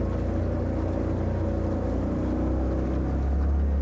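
An outboard motor on a small tinny runs on only one cylinder, chugging steadily and roughly, a low uneven drone close by with a rattling undertone, running continuously without any rise in pitch.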